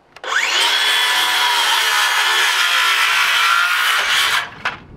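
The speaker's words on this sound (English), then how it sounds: "Set your saw up." A power saw bites into a wooden floor truss for about four seconds, a loud, steady whining cut that starts abruptly and stops cleanly, followed by a brief knock.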